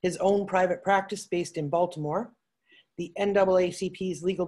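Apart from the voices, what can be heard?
No everyday noises stand out.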